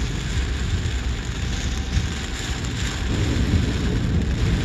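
Steady heavy rain falls in Vijayawada, making a dense, continuous hiss with a low rumble underneath that swells slightly toward the end.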